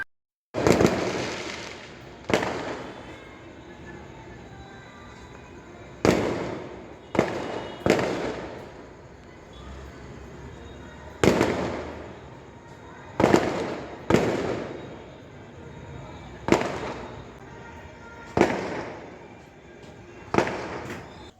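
Firecrackers burst outside one after another, sharp cracks spaced a second or two apart and ringing off with some echo, over a quiet background.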